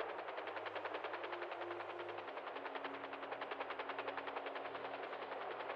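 Sustained automatic gunfire from a video game keeps up a steady, fast rhythm of shots for the whole stretch, fairly quiet and even in level, with no talking over it.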